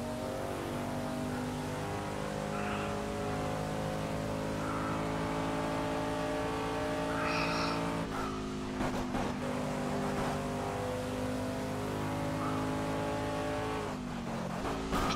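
Sauber C9 race car in Project CARS, turbo at maximum boost, engine roaring steadily at full throttle and close by, its note climbing and then dropping sharply with each gear change, with no talk.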